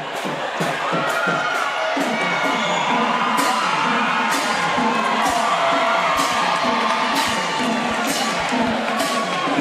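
A high school basketball crowd cheers in a gym during a prep game between Hahnville and Ponchatoula, a loud, sustained roar of shouting and whooping voices that continues without a break.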